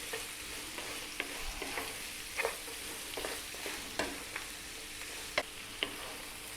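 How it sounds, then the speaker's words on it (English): Arab-style lamb stew (tashreeb) simmers and sizzles gently in a pot while a spoon stirs it, steady soft bubbling hiss with occasional light scrapes and knocks against the pot, close and quiet, no voices. "give it a stir every now and then"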